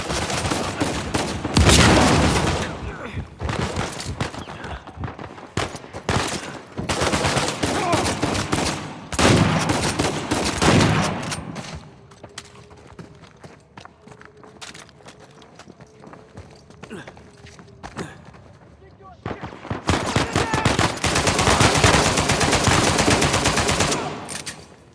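Rapid gunfire bursts from an Uncharted 4 A Thief's End gunfight on PS5, loud dense volleys in two stretches with a quieter gap between, and brief voices mixed in.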